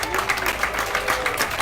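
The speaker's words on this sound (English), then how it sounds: "So can we give a big round of applause for El Momo" An audience applauds at an evening public science talk: a dense, steady wash of many hands clapping, fairly close and loud, holding an even level throughout with no break.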